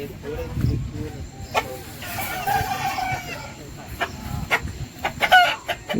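Breed roosters in a farm garden crow and cluck at close range, with scattered short calls rising over a rumbling background, while people's voices are heard nearby.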